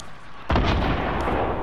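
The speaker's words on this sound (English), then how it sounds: "I hear gunshots like behind me." A sudden loud gunshot blast in Fortnite followed by a rumbling, booming tail, close and heavy.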